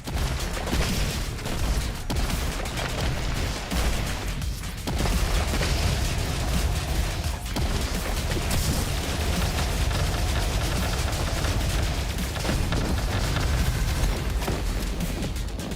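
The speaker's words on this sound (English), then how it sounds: "pixely explosions." Continuous barrage of loud, crunchy pixelated game explosions and booms, dense and overlapping for the whole stretch with no pauses.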